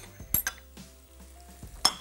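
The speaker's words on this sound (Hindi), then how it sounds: "थोड़ा सा इसको फ्राई करेंगे ताकि लहसुन और तिल दोनों थोड़े से कलर में आ जाएं।" Garlic and sesame seeds fry in a pan with a soft sizzle, broken by a few sharp clinks and scrapes of a spoon stirring against the metal.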